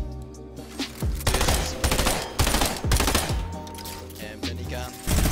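SMG fire in Fortnite: several short, sharp bursts of rapid gunshots in quick succession, loud and close, separated by brief pauses.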